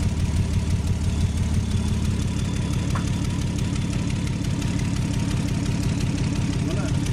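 A turbocharged Lexus engine idles close by with a steady, even low rumble and faint rhythmic knocking, unchanging throughout.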